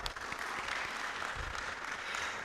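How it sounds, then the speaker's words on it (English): Applause from an audience at a science week investor summit, a soft, steady wash of many hands clapping at a distance, continuous and even throughout. "A round of applause for that, please."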